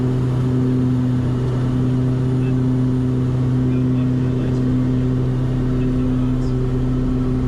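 Twin turboprop airplane engines at takeoff power, a loud steady drone with strong sustained tonal hum, heard from inside the aircraft without pause.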